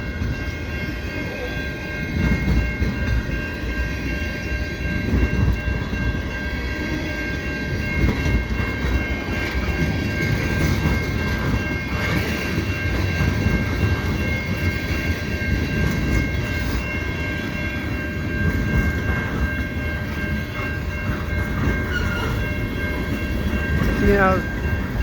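A long CN freight train rolls past at St Ambroise Street during a snowstorm, a loud, steady rumble of wagons with clattering wheels throughout and a horn-like tone near the end.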